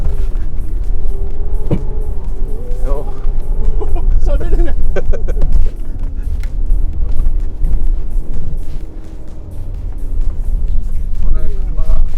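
Mitsubishi Triton pickup driven by a rally driver rumbles steadily from inside the cab, a low continuous engine and road drone beneath in-car conversation, with brief thumps and rattles from the road surface.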